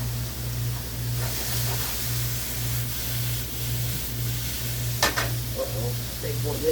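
Chicken and andouille gumbo bubbling and simmering in a pot, a steady close low bubbling texture with a brief clatter near the end and no talking.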